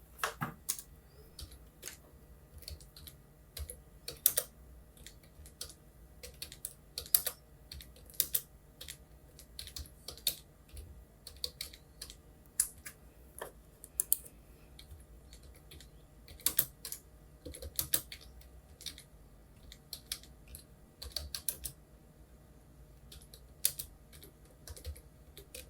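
Computer keyboard typing while entering a firewall rule name, quiet close key clicks in irregular quick bursts separated by short pauses, with no talk over them.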